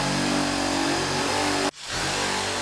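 A car engine roars loudly in an enclosed studio space, holding a high, sustained rev before cutting off abruptly and then climbing back into a strong rev.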